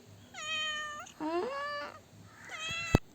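A cat meows three times up close, clear and drawn out, the second call longer and rising, with a sharp tap at the end.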